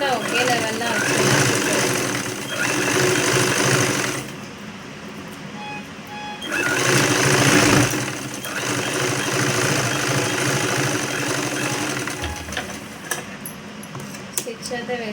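A sewing machine stitches the lining of a blouse, its motor whirring in several bursts between pauses, with a voice talking over parts of it.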